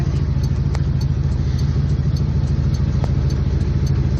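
A 1968 Dodge Charger R/T being driven gives a loud, steady low engine rumble with a smooth cruising drone heard from inside the car.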